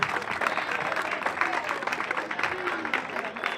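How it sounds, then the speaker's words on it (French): Crowd of young people at an outdoor celebration applaud themselves, a lively, continuous patter of clapping with cheering voices mixed in, moderately loud and close. "Applaudissez pour vous-même."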